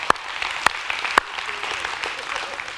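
A church congregation applauds during a Christmas Eve service, a dense close crowd of clapping with a few sharp louder claps near the start, no speech.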